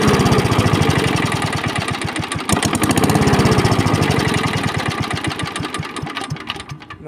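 A lawn mower engine runs after starting, its small motor chugging loud and close with a fast pulsing beat that wavers and fades toward the end, an unstable idle following carburetor cleaning.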